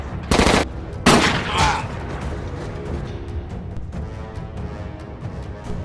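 Film gunfight from a John Dillinger gangster story: two sharp, loud gunshot bursts near the start, then scattered fainter shots and crackles under a narrating voice.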